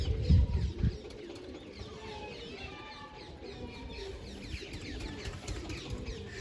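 Large pet pigeons coo softly in their loft, a low murmuring coo after a brief bump of handling noise, with faint chatter of other birds around.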